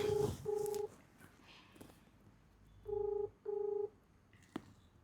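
A telephone keypad is dialed in a quiet indoor setting: two short electronic tones, a pause, then two more, each a clear sustained beep followed by a faint soft knock, with no talking.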